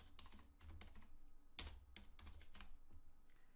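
Keys clack on a computer keyboard while a web page is built in Dreamweaver, quick irregular bursts of taps with a few sharper strokes, close and alone over faint room hum.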